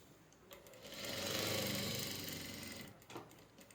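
A sewing machine runs a straight stitch on a sari in a single short, quiet burst, rising and falling over about two seconds, followed by a faint click.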